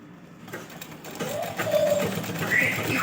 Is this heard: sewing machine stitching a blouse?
yes